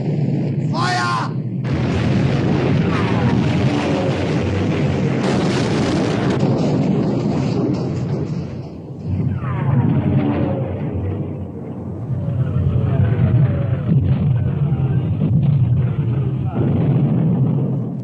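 A British naval battle scene from a 1960 wartime drama, with ship's guns booming and heavy rumbling blasts that fill the soundtrack continuously, mixed with shouting voices and dramatic orchestral score.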